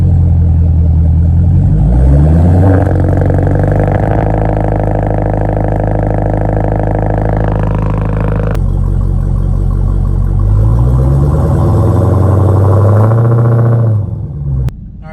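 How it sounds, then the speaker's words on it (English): 2021 Dodge Challenger Super Stock with torque reserve, a loud, deep V8 exhaust burbling at idle and rising in two revving sweeps, heard close, ending with a brief drop-off. "I'm going to get an exhaust clip of that torque reserve when we park."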